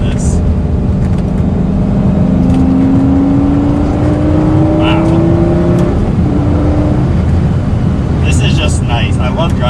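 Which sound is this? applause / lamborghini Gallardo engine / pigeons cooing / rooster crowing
lamborghini Gallardo engine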